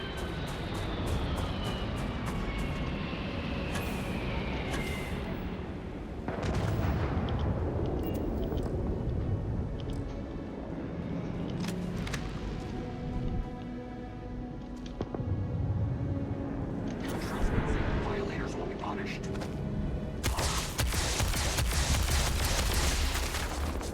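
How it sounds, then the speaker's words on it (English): Turret gunfire in the space game Starfield: repeated bursts of shots and volleys over a steady roar of engines and machinery, with loud, dense firing throughout and heavier clusters near the start and toward the end. "them turrets are just gonna wreck me"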